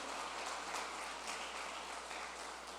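Steady, dense applause from a church congregation clapping for the Lord during a service, continuous and diffuse throughout, with no voices standing out.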